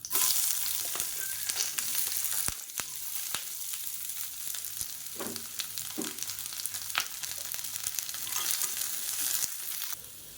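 A medium-size sliced onion sizzles and fries in oil in a pan for a chutney, a steady close crackle with occasional stirring scrapes and pops throughout.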